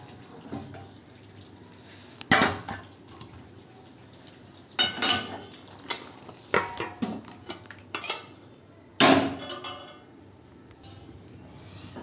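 A pot of vegetarian potato and pointed gourd curry is lifted off the stove with several sharp metallic clanks and clinks of the pot and utensils, spaced across a quiet kitchen background with faint water sounds.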